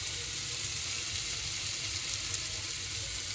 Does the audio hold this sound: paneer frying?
yes